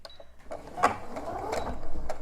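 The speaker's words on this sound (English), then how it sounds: "I'm going to sew all 4 sides of my fabric, the ½ inch seam all the way around" A sewing machine runs along a half-inch seam on all four sides of fabric for a washable Roman shade, a close, uneven mechanical whir in short bursts with light handling noises between.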